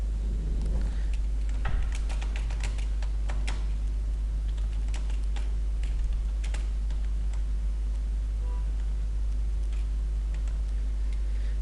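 Someone types in MS Word on a computer keyboard, giving a steady patter of close key clicks with quicker bursts near the start over a constant low hum.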